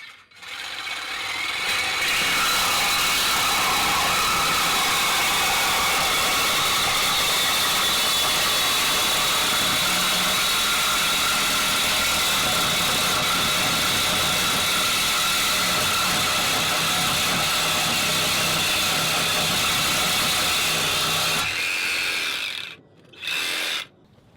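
A power tool cuts through the exhaust pipe of a Ford Focus RS during a cat-back exhaust install, a loud, steady high-pitched grinding drone that runs continuously for about twenty seconds before stopping abruptly, with a brief burst after.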